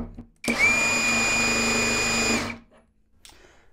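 An Ingco 20V cordless impact wrench, rated 1,350 Nm, runs in one loud, steady burst of about two seconds as it works on a badly stripped nut. The high motor whine is followed by a brief faint rattle.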